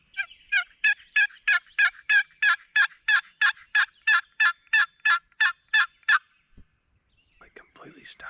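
A wild turkey gobbles in a spring forest, a long run of about eighteen evenly spaced, loud, clear calls, followed by a brief quiet and some faint rustling.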